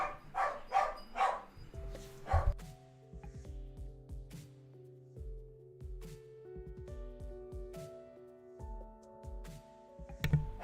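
Dogs bark near the start in a quick burst of several loud barks, then fall quiet while a steady tonal background continues with scattered soft knocks and thumps.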